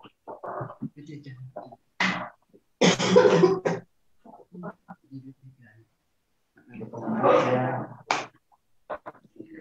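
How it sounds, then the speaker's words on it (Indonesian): A presenter at a training lecture talks in short bursts, broken twice by loud, rough coughing fits close to the microphone. "saya batuk"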